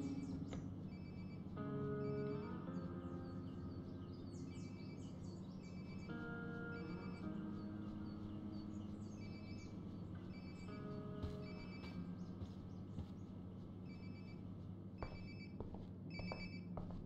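Phone ringing in the video game Life is Strange: Before the Storm: a repeating electronic ringtone in bursts, with a steady background hum underneath and no talking.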